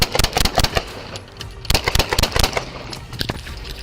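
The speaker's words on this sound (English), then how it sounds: "481, shots fired! Shots fired!" Gunshots fired during a police dashcam encounter, a loud rapid series of sharp cracks in quick bursts, pausing briefly and then resuming, with no talk over them.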